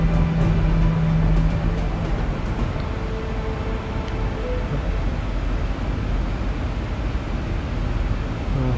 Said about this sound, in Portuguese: Ele vai diminuindo a potência do motor.